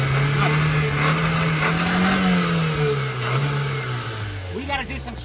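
Broken Japanese kei truck engine idling unevenly, its steady hum wavering and dipping as if close to stalling, heard up close with voices over it.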